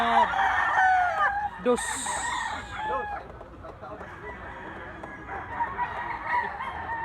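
A bull stag rooster, a young white-legged gamecock weighing about 3.5, crows loudly and close by in a long rising-and-falling call, with clucks and a brief second call, while someone talks over it.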